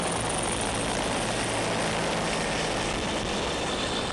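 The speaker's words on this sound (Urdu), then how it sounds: "پیوما ہیلی کاپٹرز کی فارمیشن" A formation of army aviation Puma helicopters passes overhead, a dense, continuous loud roar of rotors and engines that holds steady throughout with no voices.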